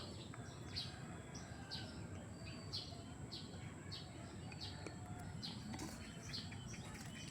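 Birds and crickets around a Korean temple in Bocaue, Bulacan: bright bird chirps repeat every second or so over a steady, dense insect hum, all at a moderate distance with no talking.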